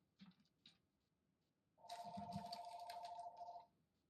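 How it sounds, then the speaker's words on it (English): A phone rings during a lecture, a single trilling electronic ring burst of about two seconds, fairly faint in a quiet room with a few soft background noises before it. "my phone is still ringing, but I never answer during a lecture"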